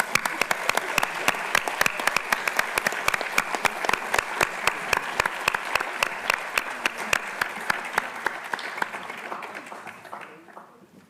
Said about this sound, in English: Let's give everyone another round of applause.